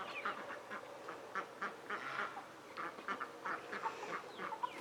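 Several ducks quack repeatedly while feeding outdoors on a crisp morning, a steady run of short, nasal calls at close range, fairly soft and overlapping, with no talking.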